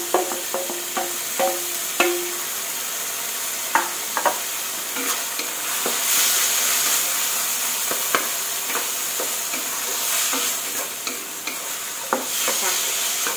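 Onion, carrot and baby corn stir-fried over medium heat make a loud, continuous sizzle, punctuated by repeated sharp clicks and scrapes of a utensil against the pan, close and without speech.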